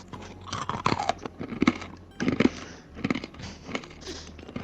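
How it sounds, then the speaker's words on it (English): Loud, close crunching as crunchy granola is chewed, in uneven bursts of bites with short pauses between. "Really short advert, but just listen to this crunch."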